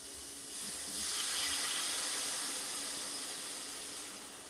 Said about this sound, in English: Look at that steam.